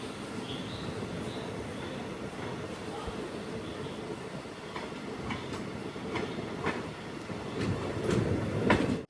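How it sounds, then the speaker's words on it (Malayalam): Rajya Rani Express rolling into Pattikkad railway station, a steady broadband rumble of wheels and carriages with faint rhythmic clicks, growing slightly louder toward the end. "ട്രെയിൻ ഇപ്പോൾ പട്ടിക്കാട് റെയിൽവേ സ്റ്റേഷനിലേക്ക് എത്തി"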